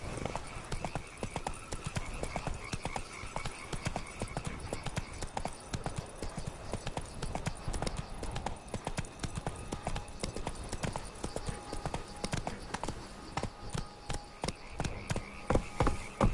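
A horse gallops in The Witcher 3: Blood and Wine, its hooves drumming a fast, continuous clip-clop throughout, moderately loud with faint ambient game sounds behind.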